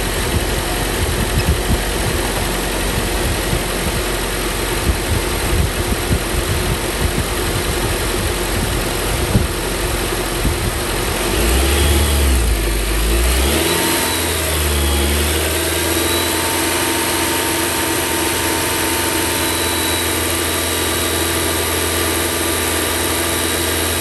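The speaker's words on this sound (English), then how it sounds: "Increase the RPM to 2500 and keep it over 10 seconds." A car engine runs at a steady idle, then rises partway through and holds at a higher, raised rev for several seconds during a battery charging test. The hum is loud and continuous, with no talk.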